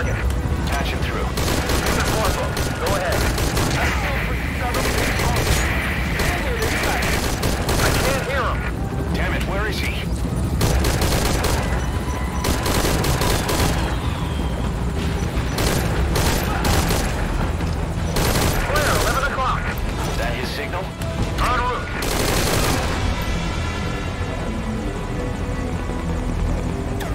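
Gunfire rages in Metal Gear Solid V: Ground Zeroes as repeated bursts and single shots crack over a continuous helicopter drone, loud and sustained, with brief radio voices mixed in.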